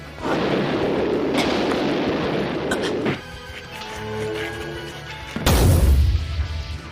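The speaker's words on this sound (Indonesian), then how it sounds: "Bersamaan dengan meledaknya Pirek, maka pilot Pirek ikutan hancur." A Pirek robot blows up in the Time Fire tokusatsu series: a sustained loud rumbling blast lasting about three seconds, easing off, then a second heavy boom bursting in near the end, with no voices.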